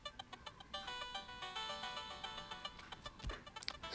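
The GarageBand Scatter Chords synth preset plays bright, plucky, bell-like chord tones in a quick repeating pattern, quiet and alone, with a retro video-game feel.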